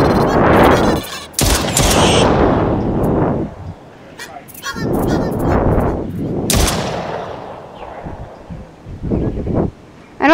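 Gunfire in the video game Island 359, heavy bursts of loud, close shots in several clusters separated by short pauses, with brief moments of talking between them.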